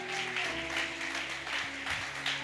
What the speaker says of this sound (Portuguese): Eu queria que vocês aplaudissem Jesus pela vida desse casal.